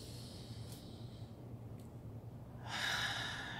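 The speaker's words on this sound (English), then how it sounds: "And another deep breath in." A slow, deep breath drawn in through the nose, soft and close, with brief sniffs first and then a fuller inhale near the end.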